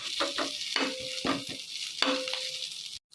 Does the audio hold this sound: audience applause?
no